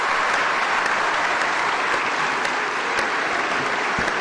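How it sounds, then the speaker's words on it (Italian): A long, dense burst of applause fills the Italian Senate chamber at Palazzo Madama, many hands clapping steadily and loudly without a break. "Il lungo applauso di Palazzo Madama per una scelta storica."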